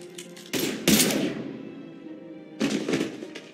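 Gunfire bursts from the sci-fi shooter Mass Effect 3, loud rattling volleys near the start and again near the end, with a fading ringing tail between them.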